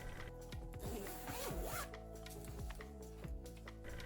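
A zipper on a pillow's protective fabric cover is opened in several quick, close rasping pulls with brief pauses between them.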